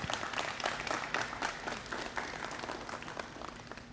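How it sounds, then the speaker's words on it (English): A high school audience at a wrestling college signing event gives a modest round of applause, a quiet, fairly distant patter of clapping hands that fades slightly toward the end. "We can give them an applause, please."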